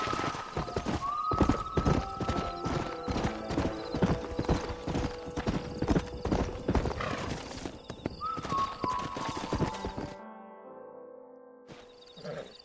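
Horse hooves clip-clop on the ground in the Western video game Red Dead Redemption, a loud, fast, irregular run of close hoofbeats with a whinny mixed in, then slowing and fading to near silence before a few faint final steps.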